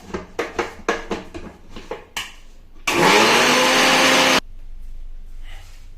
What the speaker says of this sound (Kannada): ಇವಾಗ ಗ್ರೈಂಡ್ ಮಾಡ್ಕೋಬೇಕು ಇದನ್ನು.